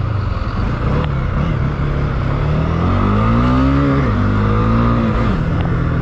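A Honda CB 300F Twister motorcycle on a wet track accelerates hard, its engine note climbing steadily and dipping at gear shifts before rising again, loud and close throughout.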